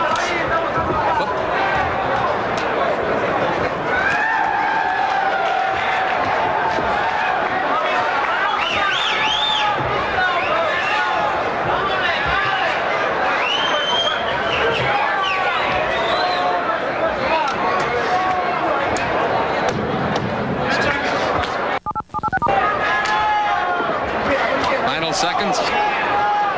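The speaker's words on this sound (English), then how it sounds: "it's not exactly a crowd pleaser if I'm to judge by the sounds coming from the crowd" A boxing arena crowd at a 1992 ten-round bout murmurs and chatters loudly and continuously, a dense babble of many voices with scattered calls but no real cheering.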